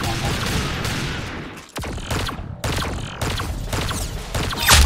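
Gunfire in the Roblox game Arsenal, loud rapid shots and bursts cracking over one another, with short gaps between volleys.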